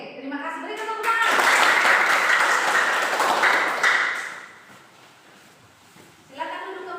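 Group applause indoors from a seated class after a children's action song, a dense burst of clapping lasting a few seconds that fades out before a voice returns.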